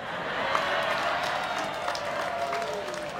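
Applause from an audience at an Indonesian religious talk, a dense steady patter of many hands clapping, fairly loud and sustained for a few seconds with faint crowd murmur beneath.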